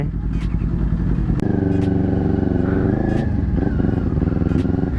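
A Kawasaki Ninja 400 twin-cylinder sport bike accelerates hard, its engine roar loud and close throughout with rising pitch through the gears and a brief shift break, while a voice talks faintly underneath.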